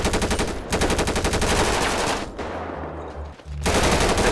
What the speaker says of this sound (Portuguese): Entra que tá trocando tiro com a gente.